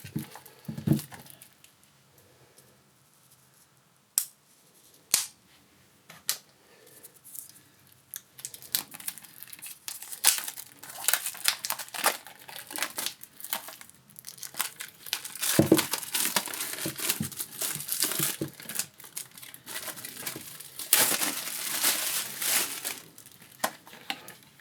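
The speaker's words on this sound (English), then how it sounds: "let's just open the packaging" Packaging torn and crinkled open on a hardcover Batman: Under the Red Hood graphic novel set with a Blu-ray: sparse rustles and sharp snaps at first, then dense continuous crinkling and tearing, close and fairly loud, with no voice.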